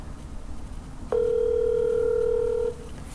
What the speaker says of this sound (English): Hopefully you hear the ringing